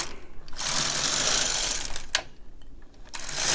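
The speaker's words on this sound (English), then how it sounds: "So I'm going to do 4 rows of white." An LK 150 knitting machine works rows, its carriage sliding across in loud, rasping whooshes, with a brief pause between passes, close and with no voices.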